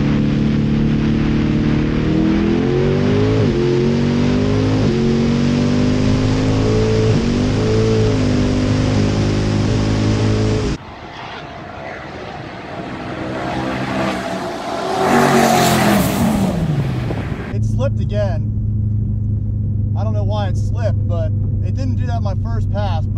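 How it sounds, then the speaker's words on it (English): Twin turbo Lamborghini Gallardo revving hard and pulling away in a race, a loud rising engine howl with gear changes, then a rushing pass and fading roar, with voices briefly heard. "It looks like we're going to run this Lamborghini Gallardo."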